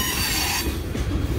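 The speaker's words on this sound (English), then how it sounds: "the wheels sliding across the rail" Heavy freight railcar wheels squeal and grind as the trucks slide across the rail on a turn near the Hoosac Tunnel, a loud, close, continuous screech over low rumbling.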